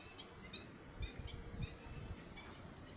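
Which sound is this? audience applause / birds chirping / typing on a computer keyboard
birds chirping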